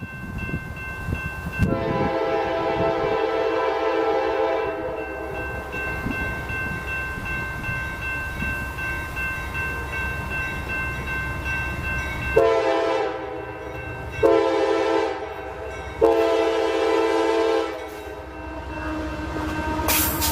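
A light power move of an AC-44 and a DC locomotive passes with a loud multi-chime horn, first one long blast, then a series of separate blasts, over a rumbling engine and rail noise.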